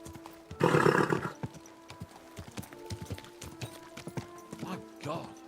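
In the video game Kingdom Come: Deliverance II, a short burst of horse neighing opens, followed by scattered hoof clops and faint rustling, with another brief whinny near the end.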